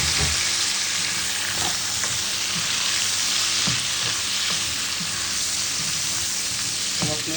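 Beef frying in a pan for steak tagalog makes a loud, continuous sizzle with scattered pops and light scraping throughout.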